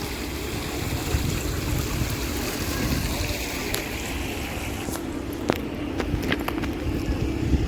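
Steady rush of falling water outdoors, a continuous close wash with a few faint clicks and knocks near the end, no talking.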